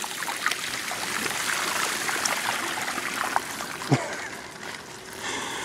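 Mountain bike rolling through water on a trail, a continuous splashing, trickling wash with a few sharper splatters and a brief thump near the end, fairly close.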